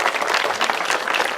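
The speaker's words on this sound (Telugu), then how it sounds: "గట్టిగా చప్పట్లు కొట్టాలి నాకు" An audience breaks into loud applause, dense and even clapping from a crowd for a short burst.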